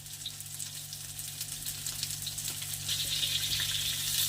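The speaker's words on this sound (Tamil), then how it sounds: "வெங்காயம் பாதி வெந்ததுக்கப்புறம் ஒரு நாலு வரமிளகாய்" Dried red chilies frying with half-cooked onions in hot oil, a steady close crackling sizzle that grows louder and denser toward the end, with no voices.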